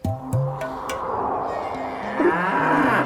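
A buffalo lets out long, loud, close-up moos, one after another, against a busy background with faint noise from people around.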